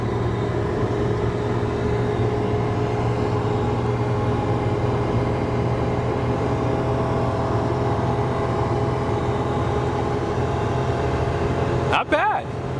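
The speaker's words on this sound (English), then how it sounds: "Wide open throttle." A Chevy Silverado 2500 with the gas L8T V8 runs at wide open throttle while towing up a 6% grade, a loud, steady engine drone heard from inside the cab, with a brief extra sound near the end.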